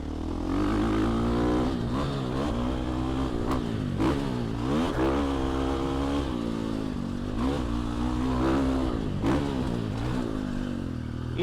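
A Factory Edition Husqvarna 450 dirt bike races around a track, its engine buzzing loud and close throughout, rising and falling in repeated revving surges with rapid throttle changes.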